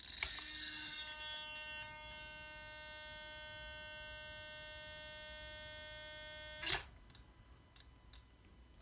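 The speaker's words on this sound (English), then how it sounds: "This is that magnetic induction servo." An HK47903TM magnetic induction servo runs with a steady high-pitched electric whine and hum for about six and a half seconds, then stops abruptly with a small clunk, leaving faint background noise.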